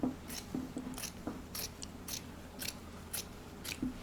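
Scissors trimming cardboard for a button pumpkin craft, a series of about eight crisp close snips at an uneven rhythm over a quiet background.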